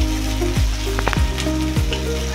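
Onions and green chillies fry in a pan for a bendakaya dhapadam, giving a loud, close, continuous sizzle with crackling spatters and scraping stirs throughout, and no talking.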